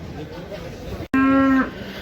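A bull calf lets out one loud, drawn-out moo close by at a livestock market in Shymkent, Kazakhstan, over a steady background of murmuring and farmyard noise.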